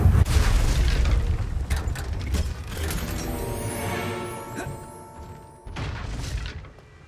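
A Confringo spell explosion in the wizarding game Hogwarts Legacy: a loud booming blast with a rumbling tail and ringing tonal decay, followed by a second, smaller burst near the end.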